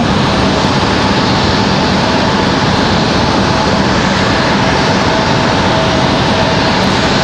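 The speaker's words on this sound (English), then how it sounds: "We got a Delta CRJ headed up the hill." A Delta CRJ jet airliner taxiing at Raleigh-Durham airport gives a loud, steady engine roar and hiss that stays constant from start to finish, with no voices.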